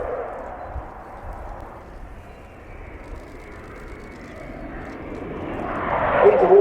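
A French Air Force Rafale C fighter jet flies a display at an air show, its engine a loud, broad, steady roar that rises toward the end as it comes nearer.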